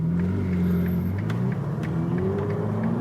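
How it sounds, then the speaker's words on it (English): A 2021 Ferrari F8 Spider with its twin-turbo engine pulls away and accelerates, a loud steady engine drone with rising pitch heard from inside the open-top car, no voices. "It's time to drive the Ferrari F8 Spider."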